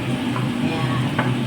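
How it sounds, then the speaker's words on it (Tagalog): Liver sautéing in a pan gives a steady sizzle, with occasional stirring scrapes and a low background hum throughout. "Gigisa ko na siya kasama ng atay."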